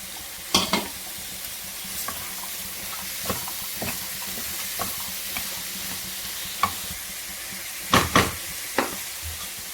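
Ridge gourd pieces frying in a pan with turmeric and curry leaves, a steady soft sizzle broken by a few sharp scraping stirs with a spoon, heard close and alone.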